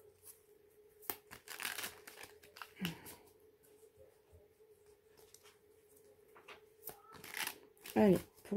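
Tarot cards are shuffled and dealt out for a nine-card spread, with irregular papery riffles, slaps and card handling close up, accompanied by a quiet voice and a background hum.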